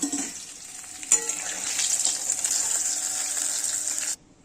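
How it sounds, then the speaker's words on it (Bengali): Tengra fish fries in hot oil until reddened, a continuous close sizzle and hiss with a small splash near the start, cutting off abruptly near the end. "এবার আমি মাছটাকে লাল লাল করে ভেজে নেব"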